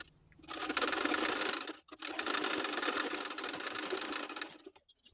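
A sewing machine stitches lining onto a blouse sleeve in fast, even bursts of rattling clatter, with a short pause partway through before the run resumes and slows to a stop.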